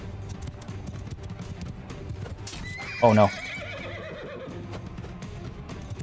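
A horse in the medieval combat game Mount & Blade II: Bannerlord lets out one loud neigh midway over a background of clip-clopping hooves and battle noise, and a voice speaks briefly.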